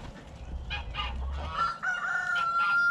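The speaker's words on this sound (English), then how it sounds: "That's a chicken, Jimmy." A chicken clucks in short bursts while a rooster crows with a drawn-out, wavering call that rises and carries to the end, heard close and fairly loud over a low farmyard rumble.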